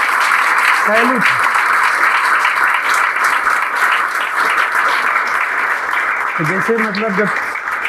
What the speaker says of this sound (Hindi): खड़ा होकर ताली बजा दीजिए लोग